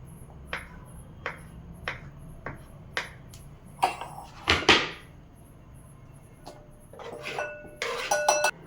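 A knife slices an avocado (butter fruit) for a salad, making a series of crisp, close clicks and taps against a board, spaced irregularly, then a few louder clattering knocks, with no speech.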